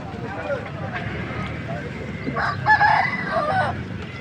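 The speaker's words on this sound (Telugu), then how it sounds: "తెల్లకన్ను కలిగినటువంటి కోడిపుంజు" A white-eyed rooster crows once at a rooster market, loud and close, its drawn-out call rising over a noisy outdoor background with people talking nearby.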